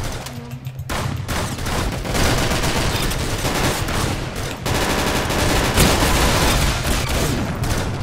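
Sustained automatic gunfire in the Roblox shooter Arsenal, loud and close, with dense rapid bursts running almost unbroken after a brief quieter opening.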